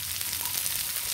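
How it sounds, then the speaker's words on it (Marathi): Prawns chilli with green capsicum sautéing in a pan, giving a steady, close sizzle and hiss that runs the whole time with no talk. "आणि थोडा वेळ हे सॉते करायचं."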